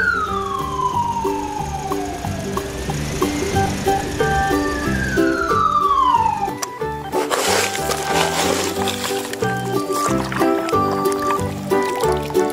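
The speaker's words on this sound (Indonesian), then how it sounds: "Mobil damkar" A toy fire truck's siren wails with rising and falling electronic tones alongside a tinny melody, then shifts to a noisier, clattering burst of sound.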